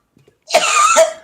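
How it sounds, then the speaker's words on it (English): A man coughs close to the microphone: one loud, harsh, rasping cough lasting most of a second, followed by a sharp second burst, after a moment of near silence. "I cough."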